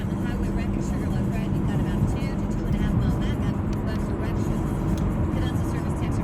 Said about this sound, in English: so you can see there's a lot of traffic